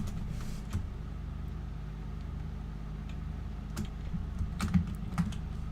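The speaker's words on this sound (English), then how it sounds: "I'm gonna take this time now to type in fly" Computer keyboard typing while playing Minecraft: faint, scattered key clicks over a steady low hum, with a small cluster of taps near the end.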